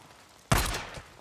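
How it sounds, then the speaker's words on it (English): A single sharp, loud gunshot bursts out in the Days Gone video game after a quiet lead-in, followed by a short decaying echo. "I heard gunshots."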